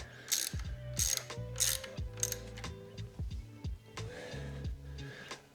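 A ratchet wrench clicks in several quick bursts as it turns small bolts on a Ducati V2 Bayliss faceplate, close and crisp, with short pauses between strokes.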